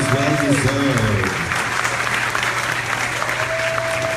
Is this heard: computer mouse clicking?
no